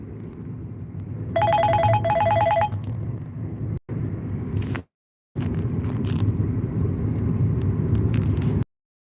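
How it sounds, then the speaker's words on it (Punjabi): A telephone rings with an incoming call inside a car, two short bursts of electronic trilling over a steady low engine rumble, followed by a few brief dropouts. "ਬਾਪੂ ਦਾ ਫੋਨ ਆ ਰਿਹਾ"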